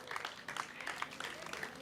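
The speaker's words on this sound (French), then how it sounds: "sous vos acclamations, mesdames et messieurs, s'il vous plaît." An audience at a slam poetry evening claps, a fairly faint, continuous patter of many hands with small bursts rising and falling throughout.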